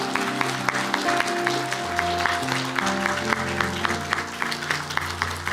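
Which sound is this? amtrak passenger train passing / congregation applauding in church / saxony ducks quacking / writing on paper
congregation applauding in church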